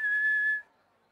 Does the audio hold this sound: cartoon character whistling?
yes